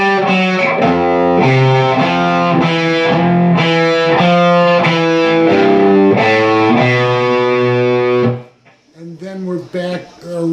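Distorted electric guitar overdub playing the outro lick of a song: thick, saturated chords struck in a steady rhythm for about eight seconds, then a few sparse, quieter notes as it trails off.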